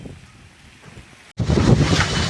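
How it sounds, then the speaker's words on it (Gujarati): Strong storm wind in Gujarat buffets the microphone, starting as a softer rumbling gust and then, after a brief dropout, surging into a loud, roaring, continuous blast. "પવન એટલે જોરદાર હો"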